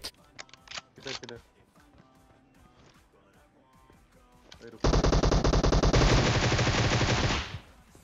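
Sustained M416 rifle spray in PUBG, a long loud continuous burst of rapid automatic fire after a few shorter sporadic shots and some talk early on.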